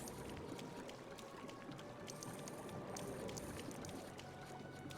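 Splashing and sloshing of a character moving through water in the LEGO Batman video game, a steady wash of water noise that runs through the whole stretch with no talk over it.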